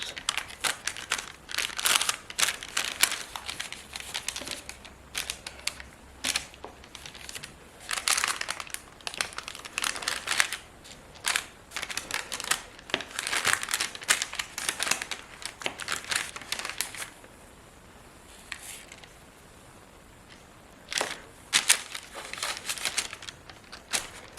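The fingers of a prop hand being cut and separated, heard as close, crinkly cutting and crackling in irregular bursts, with a short quieter gap before the snipping resumes.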